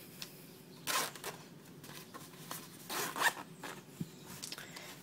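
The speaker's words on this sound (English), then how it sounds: "Just some regular zippers." A regular zipper on a Condor TNT pouch is pulled in several quick, close rasping bursts with short pauses between them, quiet and alone.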